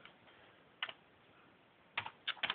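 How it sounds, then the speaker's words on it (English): Keys on a Commodore C64C computer keyboard are typed in a few quiet, sparse clicks: a short burst early on, then a quick cluster of three or four presses near the end, with no one talking. "I'm gonna type it up."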